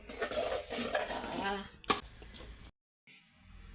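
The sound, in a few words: adding and stir-frying prawns in a pan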